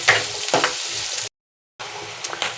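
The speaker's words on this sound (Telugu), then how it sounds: "ఉల్లిపాయలు పచ్చివాసన పోయేదాకా వేయించుకుందాము" Onions sizzle steadily in a hot pan for a mushroom masala curry, with a few stirring scrapes, then a half-second cut to silence before the frying resumes at the same close, even level.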